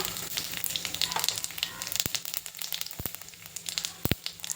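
A spoonful of cumin seeds sizzles in hot oil while garlicky palak dal is being made. The frying gives a steady, crackling hiss with a few sharp pops standing out, and no one speaks.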